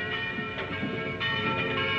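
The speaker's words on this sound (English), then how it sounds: "the bell that rang with no man alive to pull the rope" A church bell rings in a tower, its tolling strokes coming at a steady pace with a sustained, ringing hum between them, heard at moderate distance over faint background noise.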